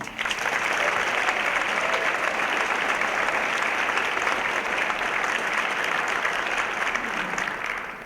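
A large audience applauds the Class 3A Illinois high school cross-country state champions at a village address, with loud, dense, steady clapping sustained for about eight seconds before tapering off slightly at the end.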